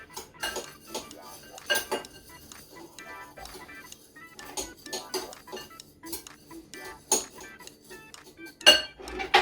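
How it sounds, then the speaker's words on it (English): A spoon clinks and scrapes against a bowl while mixing ground ginger into biscuit crumbs, producing irregular light metallic taps and rattles, close and fairly quiet. "give that a nice mix in"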